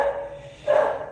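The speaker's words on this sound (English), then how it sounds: "oh, there's my dogs." A pair of short dog barks, close and fairly loud, the second brighter than the first, with no talk.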